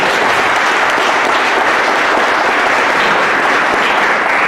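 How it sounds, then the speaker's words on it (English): Loud, dense applause from an audience at an Africa Day youth gathering fills the space, a continuous roar of clapping hands at a steady intensity from start to finish. "Clap hands for me"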